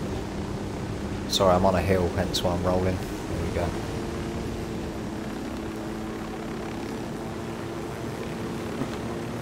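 A helicopter flies in Ghost Recon Wildlands on Xbox One, giving a steady, droning engine and rotor hum throughout while someone talks briefly over it near the start.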